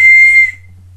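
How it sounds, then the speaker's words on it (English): A Frankenstein toy whistle won from a claw machine gives one short, shrill, steady toot of about half a second, close and loud, then cuts off over a faint low hum. "Frankenstein whistle."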